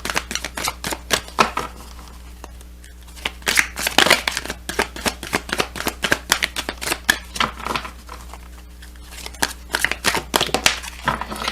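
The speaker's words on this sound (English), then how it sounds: "This has a huge relevancy when I use this deck." A deck of oracle cards is shuffled by hand in quick, crisp bursts of riffling and tapping, close and fairly steady throughout, with little or no talk.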